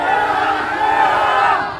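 A large crowd at a political public meeting shouts a slogan response in unison, a loud, sustained chorus of many voices swelling together before tapering off at the end.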